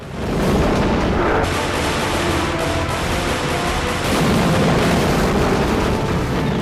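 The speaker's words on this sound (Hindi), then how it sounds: "एक के बाद एक धमाके हो रहे हैं" A continuous, dense roar of loud booming blasts from rocket strikes, rumbling without pause and overlapping so individual explosions blur together.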